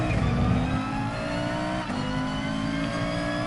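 A race car engine in the video game Gran Turismo Sport, revving high and steady as the car speeds through a sector in another car's slipstream, a loud continuous drone with a brief dip near the middle.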